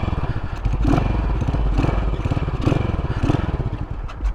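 A 1981 Yamaha SR500 single-cylinder motorcycle engine idles close by with a steady, lumpy thump and loose mechanical clatter, holding its running note throughout.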